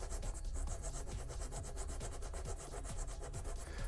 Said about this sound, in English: then I'm just going to take my sanding stick and